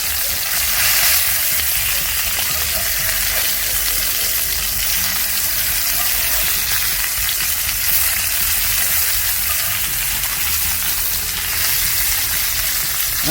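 Salmon fillets searing in a hot pan, a loud, dense, unbroken sizzle that holds steady throughout with no voices.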